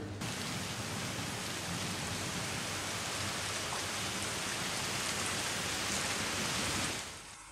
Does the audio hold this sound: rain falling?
yes